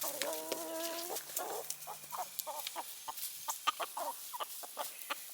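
A flock of chickens, including several roosters, clucks in a steady run of short, close calls, opening with a drawn-out tonal crow-like call before the rapid, uneven clucking continues.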